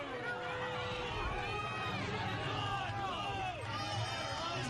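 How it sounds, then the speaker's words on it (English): A home crowd at a summer-league baseball championship game fills the air with a steady wash of shouting voices and cheering, moderately distant and continuous throughout. "And the home crowd here making themselves heard."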